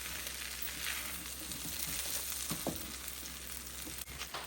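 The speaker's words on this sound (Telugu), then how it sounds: "ఇప్పుడంతా బాగా కలిపేసుకోండి" Chickpea rice with coriander and a spoon of ghee is stirred in a pan, giving a steady soft sizzle with a couple of brief scraping knocks from the spoon; no voices.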